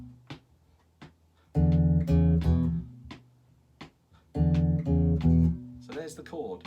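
Bass guitar plays two sustained chord-tone clusters (root, minor 7th, major 6th and 5th), each a few held notes struck in quick succession, separated by a quiet pause with faint plucks.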